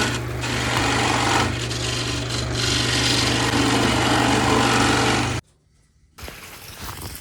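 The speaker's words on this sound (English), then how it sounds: "switch back to the skew chisel to make sure the bottom of this lid's nice and flat" A skew chisel scrapes steadily across the flat bottom of a punky sweetgum bowl lid spinning on a lathe, with a constant motor hum beneath it, then the sound cuts out abruptly near the end before faint rustling resumes.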